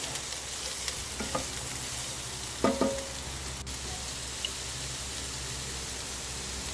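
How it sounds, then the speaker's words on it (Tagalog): Carrots sauté in a pan, giving a continuous soft sizzle with a few clinks and scrapes of a utensil stirring them, heard up close with no speech. "hinalo-halo ko lang po hanggang sa lumambot ang carrots"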